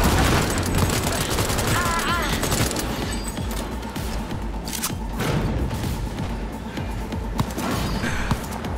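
SMG gunfire in a first-person shooter video game, with dense continuous bursts of rapid automatic fire and impacts, loud and close, with a voice faintly under the shooting.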